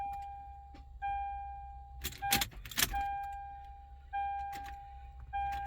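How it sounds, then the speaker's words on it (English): A Lexus GX470 with a faulty starter, heard as repeated electronic chimes and warning tones with a few brief clunks and clicks as the key is turned, close and quiet, without the engine catching. "when I try to crank it, this is what happens"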